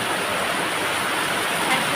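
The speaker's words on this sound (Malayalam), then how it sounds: "ഭയങ്കര മഴയാണ്." Heavy rain pours down as a steady, dense, close hiss with no pauses and no voices.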